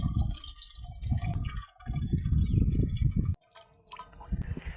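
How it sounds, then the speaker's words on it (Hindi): Homemade liquid fertilizer for tomato plants drips and splashes through a sieve into a bucket, a close, uneven wet trickle with brief pauses and a sharp cutoff near the end. "इसको मैंने छान लिया है"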